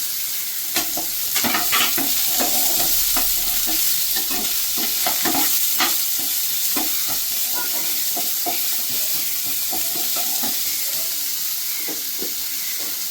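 Chopped onion and grated ginger sizzle steadily in hot oil in a pan, with a continuous frying hiss and repeated scraping stir strokes close by.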